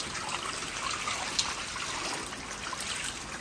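A solution trickles onto a sponge for treating foot rot in sheep, a soft, steady, fairly faint liquid wash with no voices.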